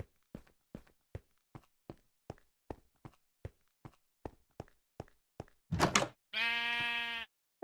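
In the video game Minecraft Skyblock, a sheep gives one drawn-out, nasal bleat after a run of about fifteen evenly spaced footstep thuds and a short rustle, all close and clear.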